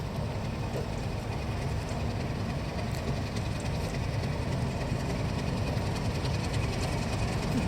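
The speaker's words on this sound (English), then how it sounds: "Well, we have a little train after all." A small train runs steadily nearby, its engine humming and wheels rumbling in a constant, even drone with no talking.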